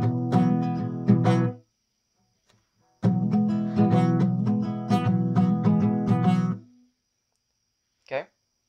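Acoustic guitar with a capo playing a song intro, with hammer-ons onto a string. Two bursts of plucked notes ring out close and clear, separated by a pause.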